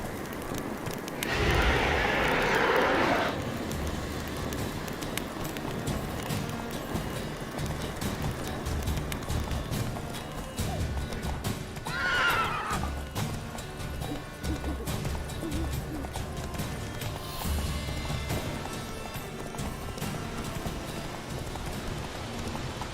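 A horse gallops in The Witcher Wild Hunt game, rapid steady hoofbeats drumming throughout over a busy background, with a brief whinny-like call around the middle and bursts of noise near the start.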